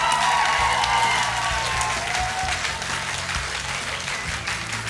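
Steady, dense audience applause greets a title winner at a talent show final, loud and sustained throughout with a tonal hum running beneath it.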